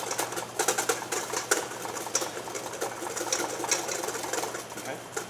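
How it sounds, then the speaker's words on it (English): Eggs being whisked by hand for hollandaise sauce, a fast, steady rhythmic clatter of whisk against the bowl running throughout at close range, with no speech over it. "So we're incorporating air by using a whisk."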